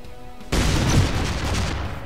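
A shot fired in the ShellShock Live video game lands as an abrupt, close boom followed by a sustained rumbling, crackling blast that fills the rest of the moment, with no speech over it.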